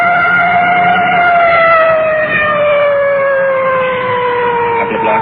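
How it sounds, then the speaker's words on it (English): A loud emergency vehicle siren wails steadily and close by at a large city intersection, its tone slowly gliding downward, with traffic rumbling underneath. "You can hear that full treatment on the siren."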